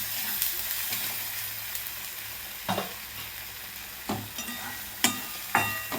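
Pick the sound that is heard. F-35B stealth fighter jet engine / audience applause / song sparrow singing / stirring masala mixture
stirring masala mixture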